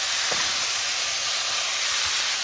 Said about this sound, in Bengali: এখন আমি এখানে এই কুমড়ো ডাঁটাটা এই তেলেই একটু ভেজে নেব।